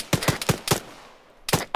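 Gunfire in the military shooter Arma 3 during a squad training match: a quick burst of four sharp shots, then a pause and two more cracks, with no voices in between.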